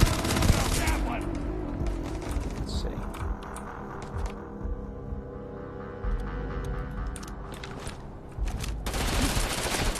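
Gunfire rattles continuously in the space game Starfield, dense overlapping shots and bursts layered over game music and effects, loud throughout with a brief dip near the end.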